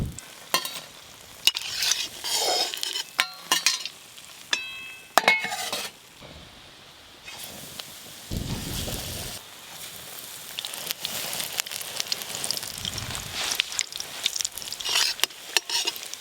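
Pumpkin flower fritters deep-frying in oil, a soft bubbling sizzle broken by clinks and scrapes of a utensil against the pan, close by, with no speech.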